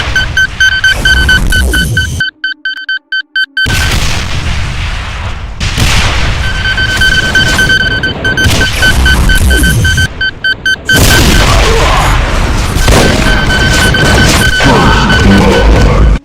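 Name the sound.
Cyberdemon firing dual volleys of homing rockets, Doom mod video game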